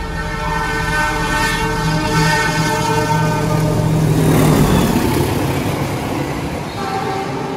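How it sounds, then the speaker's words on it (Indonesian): Argo Dwipangga express train running through Kutoarjo station at speed, a loud steady roar of wheels and carriages with a horn tone sounding throughout, close by and with no voices. "Argo Dwi Pangga melintas langsung di Kutoarjo sekaligus menyusul ini nih."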